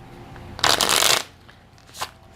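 Tarot cards shuffled in a single close, steady riffle lasting about half a second, followed by a quieter brief flick of cards a moment later.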